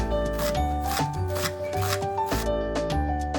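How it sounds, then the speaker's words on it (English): Quick knife chops dicing an onion on a cutting board tap out a rapid, uneven rhythm under steady background music. "First, I'll dice an onion,"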